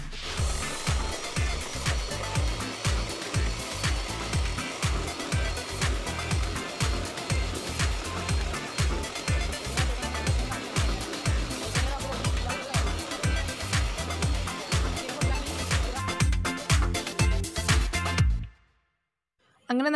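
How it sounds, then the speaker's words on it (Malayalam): An electric beater whips cream until stiff for chikoo ice cream, a loud steady mechanical whir with rapid regular pulsing from the beaters in the bowl, cutting off abruptly near the end. "ഇത് സാധാരണ നമ്മുടെ കേക്കിനൊക്കെ ബീറ്റ് ചെയ്യുന്ന പോലെ നല്ല സ്റ്റിഫായിട്ട് ബീറ്റ് ചെയ്തെടുക്കണം."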